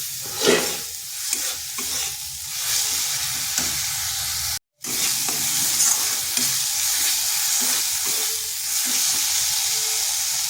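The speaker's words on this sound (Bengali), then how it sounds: "মশলাটাকে একটু কষে নিচ্ছি।" Ground coriander and chili spice paste sizzles in a pan while being stir-fried, a steady close hiss broken by scraping stirs, with no talking.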